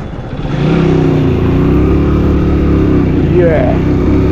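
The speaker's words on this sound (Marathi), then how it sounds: "आपली गाडी काय मागं हटत नाही. किती चढ असला तरी आरामात चालली बघा." A car labours up a steep mountain road near Dehradun, Uttarakhand, its engine holding a loud, steady drone under strain from start to finish, with a brief voice heard partway through.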